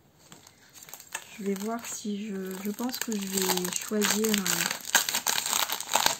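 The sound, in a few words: paper sheets being handled and crinkled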